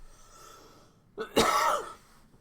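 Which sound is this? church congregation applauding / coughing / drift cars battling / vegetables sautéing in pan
coughing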